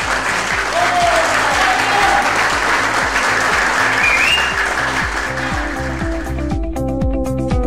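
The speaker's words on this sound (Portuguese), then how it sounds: "Vocês partilhassem comigo uma salva de palmas enorme à família JH." Guests at a TITAN and JH company dinner give a loud, dense round of applause that holds steady for several seconds, then fades as background music with a steady beat comes through.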